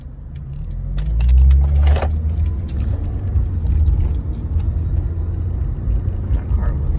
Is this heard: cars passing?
yes